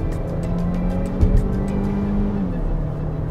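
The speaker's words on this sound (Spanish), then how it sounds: "lo pongo en drive, deslizo al modo Sport, vamos a fondo 2000." A Changan CS35 Plus Turbo SUV accelerates hard in Sport mode, heard from inside as a steady engine drone whose pitch rises and then levels off, with a brief thump partway through and no talking.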